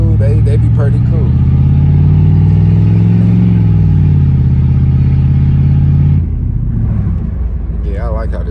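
An old-school Chevrolet Caprice Classic sits running with a deep, steady idle rumble that swells slightly then drops off, someone talking over it at the start and end.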